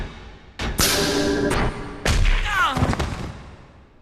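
Explosion in the PlayStation 2 game Xenosaga Episode III, heard as sharp booming blasts and thuds in quick succession, with a rumbling tail that fades toward the end.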